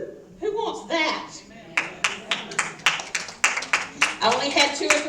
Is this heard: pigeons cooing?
no